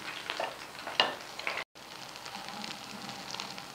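Radish kababs fry in a pan with a soft, continuous sizzle and crackle, a brief bump near the start and a momentary dropout midway, with no talking.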